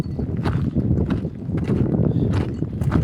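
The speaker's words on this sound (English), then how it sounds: "here are their cattle." Local-breed Maasai cattle walking through a Maasai town: a continuous shuffle of hooves and footsteps close by, uneven and overlapping, with a dull rumbling background.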